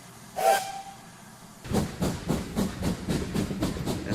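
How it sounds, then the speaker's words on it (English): A steam train in a Sherlock Holmes mystery game gives a short high whistle and a hiss, then pulls away with a steady rhythm of chuffing exhaust beats, moderately loud and close. "And there goes our train."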